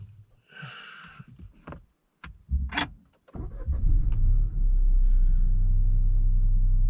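A 2020 Peugeot GT Line with an automatic gearbox starts up. Soft clicks and cabin rustles come first, then the engine catches and settles into a steady, close idle rumble.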